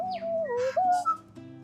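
A common New Zealand backyard bird sings at close range in a wildlife centre, giving a clear run of gliding whistled notes that rise and dip, with a couple of brief chirps and no talking.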